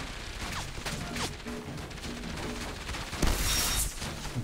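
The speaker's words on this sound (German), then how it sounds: "Zwei Schuss umsonst rausgehauen" Gunfire in the video game Enslaved: Odyssey to the West: repeated sharp shots in quick bursts over continuous background music, with a heavier blast near the end.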